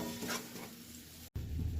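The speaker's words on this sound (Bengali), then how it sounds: "ভাজা ভাজা করে দিয়ে দেবো পেঁয়াজ বাটা" Onion paste frying in hot oil with dried chilli, fennel seeds and whole black peppercorns while cooking a rohu fish rezala, a steady close sizzle with a brief cut and some stirring clatter.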